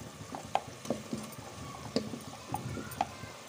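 Spoon stirring potatoes into sautéed masala in a pan for Punjabi matar pulao, a few soft scraping and tapping knocks over a faint sizzle, close and quiet.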